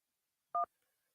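A single short telephone keypad tone follows a voicemail prompt, one clean beep lasting about a tenth of a second in otherwise near silence.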